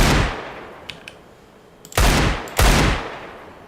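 Revolver firing in the shooter game Valorant: a fading shot at the start, then two loud, sharp single shots about half a second apart, each with a short tail and no voices.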